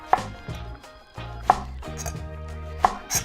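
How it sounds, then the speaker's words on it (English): A knife cuts eggplant strips into squares on a cutting board, giving three sharp, evenly spaced chops with soft scraping between them, close and clear. "Take the slices and cut them lengthwise into strips. Then turn them and cut them into squares."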